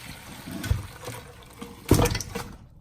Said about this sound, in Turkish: Suyunu bir tencereye boşaltacağım.